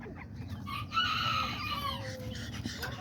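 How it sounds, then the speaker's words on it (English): Pinto bantam chickens, one rooster and two small hens, cluck and call in a short, fairly faint burst of fowl sounds over a low background rumble. "You got the one rooster and then you got the two little hens right here."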